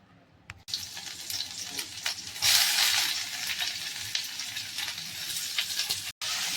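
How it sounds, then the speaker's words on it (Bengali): Onion fries in oil left from cooking fish, starting with a brief quiet moment and then moving into a steady close sizzle. A louder burst comes around two and a half seconds, with light stirring and a short dropout near the end. "মাছের তেলটা ওই পেঁয়াজটার মধ্যে দিয়ে দিয়েছি একটু ভেজে নেব"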